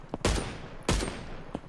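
Two sharp, loud gunshots about half a second apart in a sniper video game, with a couple of fainter distant shots around them.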